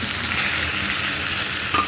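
Vegetable stalk curry fries in a pan with a loud, continuous sizzle and hiss, with a faint scrape of stirring near the end as water goes in.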